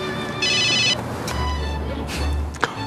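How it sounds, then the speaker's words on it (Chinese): A telephone rings once with a short, bright trill for an incoming call in a drama scene, followed by a low hum and quiet room background. "活动发起人来电了。"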